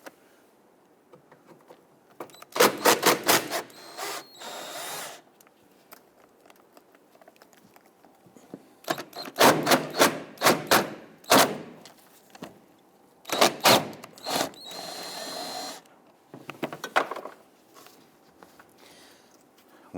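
Two 10mm bumper screws being backed out on a 2008-2013 Infiniti G37 front bumper cover, close ratcheting clicks in three rapid clustered bursts with quieter handling noises between.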